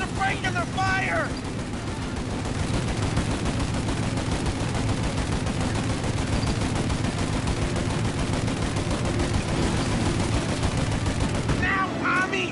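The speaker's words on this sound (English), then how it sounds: "Shoot out their gun when there's a break in their fire!" Sustained gunfire and rapid turret gun shooting in the video game Mafia Definitive Edition, a loud continuous barrage running the whole time with voices shouting over the din.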